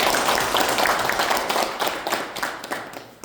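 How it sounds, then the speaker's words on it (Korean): A crowd claps at the opening of a union election candidate rally in Busan, a burst of brisk applause that starts full and gradually thins and fades. "후보 연설회를 큰 박수로 시작하겠습니다."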